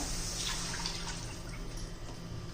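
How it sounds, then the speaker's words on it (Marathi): A glass of water is poured into cooking masala for a raw banana bhaji, a brief close splashing and trickling over a hissing pan. "एक ग्लासभर पाणी घातलेलं आहे मी"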